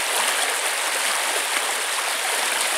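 A creek flows steadily beneath a small steel bridge in wet woods, giving a continuous, even rush and trickle of water heard close up with no voices.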